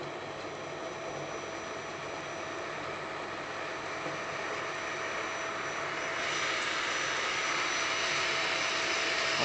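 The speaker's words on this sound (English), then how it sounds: "Start the vacuum." A vacuum motor drones steadily at close range while pulling air through freshly roasted coffee beans to cool them, and its whine rises to a louder, higher pitch partway through. No voices are heard.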